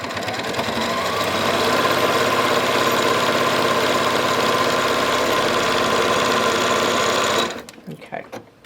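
Sewing machine stitching a bag, a loud, steady rapid mechanical whirr running continuously for about seven seconds before stopping abruptly, followed by faint handling noises.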